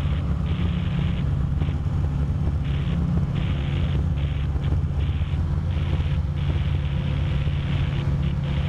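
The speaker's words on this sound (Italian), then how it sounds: "C'è vento giù," Strong wind buffets the microphone in a steady, loud low rumble that never lets up, with no talking heard.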